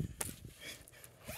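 Clothing zippers and pocket fabric rustle close by while someone searches through several pockets for keys, a run of short scratchy zips and handling noises with no talking.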